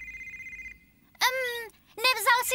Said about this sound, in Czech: zdá se, že mi zvoní mobil.